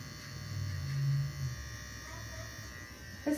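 Electric clippers buzz close by while trimming hair around the ear in a home haircut, a steady motorized hum that rises and dips as the blade moves, ending with a few handling clicks.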